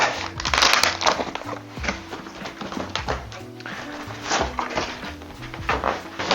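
Cardboard packaging around a Limber desktop kit is torn and unwrapped, giving a steady run of loud, close crackles and crumpling bursts over soft background music.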